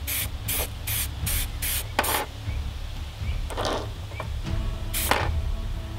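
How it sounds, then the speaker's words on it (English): Quick, subtle bursts from a spray can of base coat are aimed at miniature models from about 10–15 cm away: five short hisses in a steady row, then a longer burst and a few more, over a low background hum. "just from about 10-15 centimeters away, just get some quick, subtle sprays"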